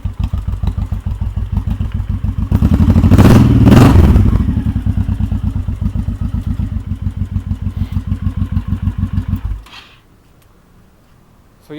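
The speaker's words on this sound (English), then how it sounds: "Gotta like that dual exhaust though. Pretty sweet. Sounds pretty good." A new motorcycle with dual exhaust idles close by in a fast, even thump that swells briefly as the engine revs, then cuts off abruptly near the end.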